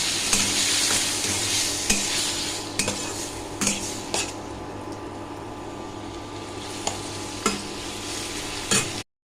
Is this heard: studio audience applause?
no